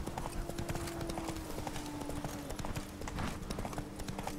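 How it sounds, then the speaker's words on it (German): Horse hooves clip-clop in a steady galloping rhythm while riding through a forest in The Witcher 3, the repeated thuds close and continuous over a constant low game hum. "Reiten wir erstmal hin und dann gucken wir."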